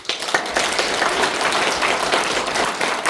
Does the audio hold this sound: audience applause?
yes